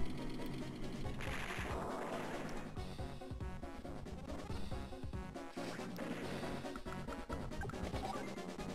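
Artillery unit being destroyed in the Advance Wars II strategy game, a dense run of crashing, crackling battle bursts layered over game music, loud and continuous with no voices.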